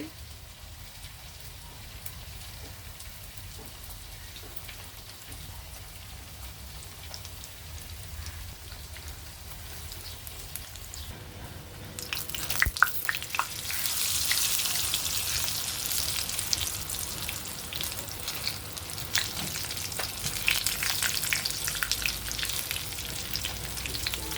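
Eggplant slices go into hot soybean oil. A quieter stretch gives way halfway through to a loud, dense, crackling fry that keeps spitting close by until the end, with no voices.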